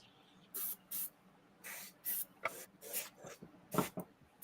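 An airbrush is cleaned out in a series of short, sharp spray bursts, about ten hissing pulses separated by brief pauses, close and fairly loud during work on a painted Red Sonja bust.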